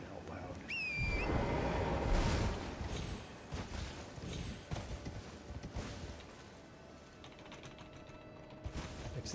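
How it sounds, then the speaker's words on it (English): Horse hoof clip-clops in Elden Ring, a scattered series of soft clattering steps over ambient game sound, with a brief chirping tone near the start and no clear talking. "Makes the sound of me trying to get off the horse."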